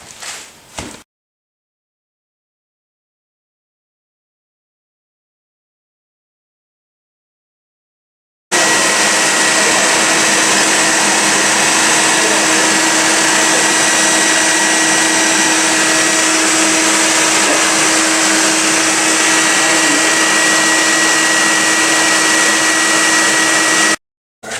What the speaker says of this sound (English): So we're going to start vacuuming the bees off because we're inside the house